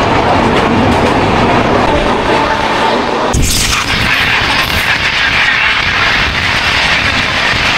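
The Bikaner Howrah Express runs at around 130 km/h, a loud continuous roar and rattle of wheels on track, with a sudden sharp burst of rushing noise midway as another train passes.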